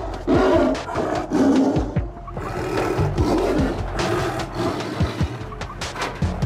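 A tiger at La Flèche zoo in France lets out rough, noisy roars and growls that swell and fade over several seconds, loud and close, with no talking.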